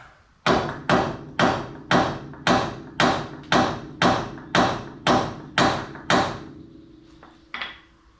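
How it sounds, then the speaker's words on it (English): Mallet tapping on a Ford Courier shock part: eleven evenly spaced, loud, ringing metallic blows in a steady rhythm, followed by a brief pause and one softer final tap. "I should be able to just tap that out with a hammer now."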